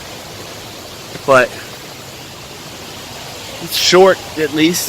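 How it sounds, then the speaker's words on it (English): Loud, steady rushing roar of a waterfall fills the whole stretch as a constant broadband wash, with a person speaking briefly over it near the start and again near the end. "Waterfalls are stunningly beautiful and loud."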